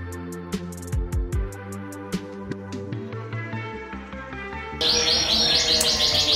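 Canaries sing in a canary breeding warehouse, many birds overlapping in loud, close chirps and trills, with a dense rapid warbling chorus swelling toward the end; no speech.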